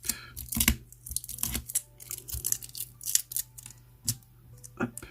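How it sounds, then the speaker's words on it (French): Small pieces of sticky tape are peeled and torn in short, sharp, crackling bursts at close range, scattered irregularly across the moment with quiet gaps between them. "je me bats avec des petits morceaux de scotch"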